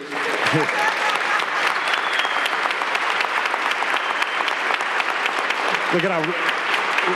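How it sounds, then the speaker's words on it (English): Sustained audience applause at a Cleveland city council meeting, dense clapping from a large indoor crowd, loud and continuous, with a voice briefly speaking over it at the start and near the end. "How about a nice round of applause for his sister"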